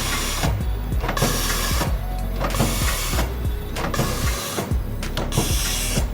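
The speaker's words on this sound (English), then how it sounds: "the film is going into bag former, and the machine will cut the bag" A steeped coffee bag packing machine forms and cuts bags in a loud, regular mechanical cycle, with repeated clunks and hissing bursts about once a second and continuous whirring in between.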